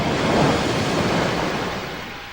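Crashing water waves engulf the Egyptian army in a dramatized sea scene: a loud, steady roar of surf and rushing water that slowly fades, with no voices.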